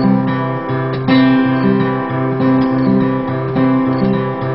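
Folk fingerstyle acoustic guitar played with an alternating thumb-and-finger pattern, steady picked notes over a repeating bass line, close and clear with no voices.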